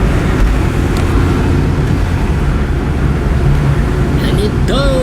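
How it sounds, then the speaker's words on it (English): A Volkswagen Jetta drives along a road on a test run of its transmission shifting, giving a steady loud rumble of engine and road noise with no clear break for the gear changes. "Now let's drive around to see if the transmission shifts."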